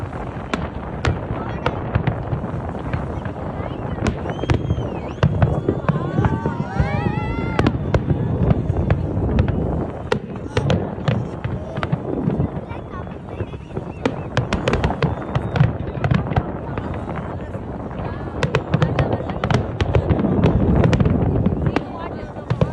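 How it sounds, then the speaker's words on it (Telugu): Firecrackers and fireworks at a New Year celebration on a beach crackle and pop almost nonstop, with sharp bangs and whistling rockets over crowd noise and nearby talking. "క్రాకర్స్తో అంతతో చూడండి, మీకు సౌండ్ కూడా వినిపిస్తా ఎంత బాగుందో"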